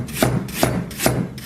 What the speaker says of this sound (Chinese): 姜咱们给它切一下。